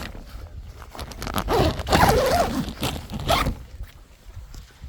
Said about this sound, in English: and then zip up the outer layer